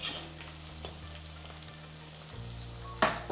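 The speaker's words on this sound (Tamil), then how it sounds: "மூணு பச்சை மிளகா கீறி வச்சு போட்டாச்சு இப்போ எல்லாம் நல்லா சேர்ந்து அப்புறம் வதங்குது" Onion, garlic and slit green chillies sauté together in a pan for a Chettinad fenugreek curry, giving a quiet, steady sizzle with a brief stir-clatter near the end, no voices.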